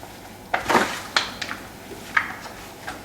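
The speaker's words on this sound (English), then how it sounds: "You want to continue to mix it around so that that broth gets everywhere" Dressing being stirred with broth in a pan, giving a few scattered scrapes and clinks of a utensil against cookware, close and fairly quiet.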